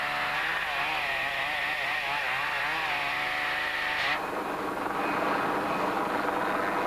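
A chainsaw engine drones steadily, its pitch wavering as it bites into a felled tree during heli-logging, then shifting abruptly partway through.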